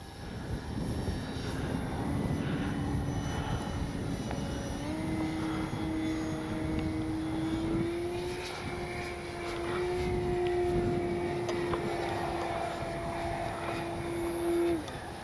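An electric Durafly Tundra V3 RC airplane on a 4S battery buzzes steadily overhead, its motor pitch rising and holding high as it flies aerobatically, with a constant outdoor drone throughout.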